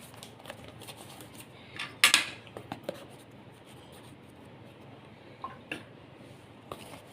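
A spoon scrapes and taps vanilla custard powder into a bowl in a few short, close dry scrapes and clicks, with a louder cluster near the start and sparse taps later against a quiet room.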